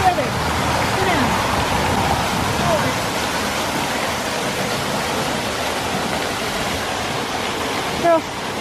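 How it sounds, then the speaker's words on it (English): Scott Falls, a waterfall, roars steadily and loudly from close by, a dense unbroken rush of falling water that fills the whole stretch with only a small bump near the end. "So some of you might remember this waterfall."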